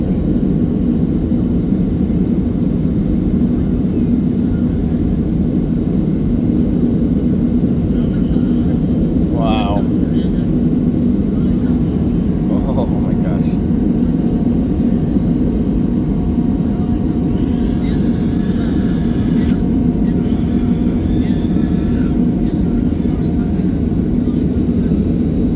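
Steady loud roar of an airliner cabin in flight during turbulence, a constant engine and air rush filling the whole clip, with faint voices and small rattles above it.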